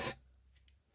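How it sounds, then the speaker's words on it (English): Scissors snip through crochet yarn at the end of a small crocheted bag square, a single brief close cut at the start followed by faint light clicks in a quiet room. "pull up on my yarn and snip it off"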